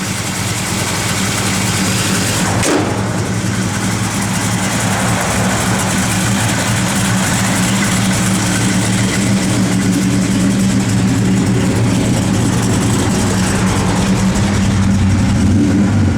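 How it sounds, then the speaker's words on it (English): A 1968 Chevrolet Chevelle's 396 V8 rumbles steadily at idle, close and loud, with a sharp knock early on and a slight rise in revs toward the end. "Car sounds good."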